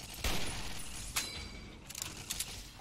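Turret gunfire in the video game Fallout: New Vegas Lonesome Road comes as a few sharp, fairly faint shots spaced apart, with quieter scattered cracks following.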